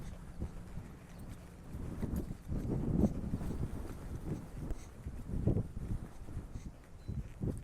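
Horse hooves thudding softly as a jigging horse is ridden in schooling for show prep, an uneven muffled beat at moderate distance with some wind noise.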